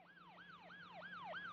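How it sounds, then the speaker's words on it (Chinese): A police siren wails in a steady repeating rise-and-fall sweep with about five cycles, moderately loud and gradually growing as it approaches from the distance, with no voices. "好快我就听到由远而近嘅警笛声"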